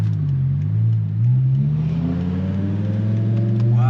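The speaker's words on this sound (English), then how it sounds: "Sounds so good. The V10 screaming." A 2008 BMW M5 E60 V10 revving hard, its high-pitched scream climbing steadily and loudly through the gears with no talk over it.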